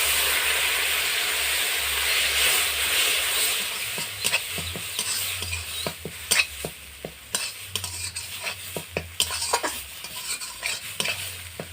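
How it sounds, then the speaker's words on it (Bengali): Ground spice masala with turmeric, chilli and coriander powder and a splash of water sizzles steadily in a pan, with repeated scraping stirs of a spatula clattering through the hiss, close and fairly loud, a low hum beneath. "মশলাটা আমার বেশ ভালো করে কষানো হয়ে গেছে"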